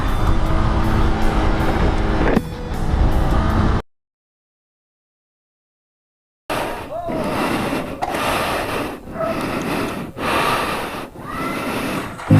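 Scrambler-type big bike motorcycle engine with strong torque, running loud and close with roaring revs, cut by a few seconds of silence before the engine noise resumes with rising and falling throttle.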